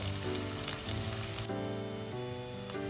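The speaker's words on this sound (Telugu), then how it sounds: "ఉల్లిపాయ ఇలా చిన్న ముక్కలు కట్ చేసి వేసుకోండి. ఇది కొంచెం ఫ్రై అవ్వాలి." Chopped onion frying in a pan for a vegetable jowar upma, giving a steady close sizzle with crackling throughout, with no talk.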